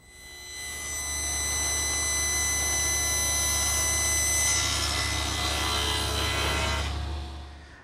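A saw blade cuts steadily through wood for a toy chest, a loud sustained whine with a constant low hum and a rasping edge. It builds in over the first second, holds, then grows coarser before cutting off near the end.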